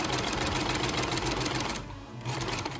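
A sewing machine stitching a fabric face mask runs at a steady, rapid mechanical chatter, briefly slowing and softening for a moment before resuming at full speed, close and loud with no voices.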